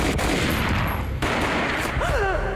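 A gunshot boom in the Max Payne video game, a loud dense burst of game gunfire and noise filling the clip, with a brief voice-like sweep near the end.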